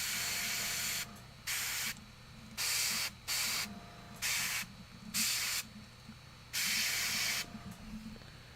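An airbrush sprays paint onto Warhammer miniatures in short bursts of hiss, about seven separate squirts of roughly half a second to a second each, with quiet gaps and a faint low hum between them.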